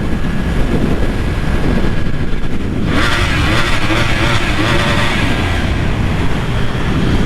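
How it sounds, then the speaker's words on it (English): A 2020 Yamaha R1 sportbike with its exhaust removed revs up once, giving a loud, raw, close roar that climbs and holds for several seconds, with no talk over it. "Had to rev it one time, even though I don't have no fucking I don't have my exhaust on there yet."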